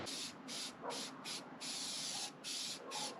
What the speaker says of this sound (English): I got plenty of daylight left to put a coat of paint on it.